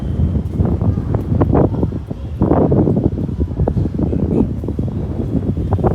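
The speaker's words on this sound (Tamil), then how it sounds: "இங்கே தான் காற்று வருது அங்கே வெளில அந்தளவு காற்று இல்லை" Steady, gusty wind roars and buffets at close range inside a temple gopuram tower, with low rumbling rushes and flutters that rise and fall throughout.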